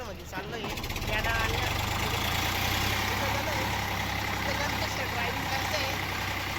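A tractor engine runs steadily while driving, a loud continuous low drone with a faint voice or two under it.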